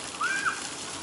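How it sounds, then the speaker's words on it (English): A steady wash of splashing, rushing water from a fountain water feature on the Toronto waterfront fills the clip, with a brief high chirp-like tone rising above it. "here you got the water feature"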